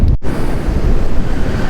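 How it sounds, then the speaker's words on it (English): Ocean waves break and wash on the shore, a loud continuous roar of surf mixed with gusting wind buffeting the microphone. "Just watching the waves."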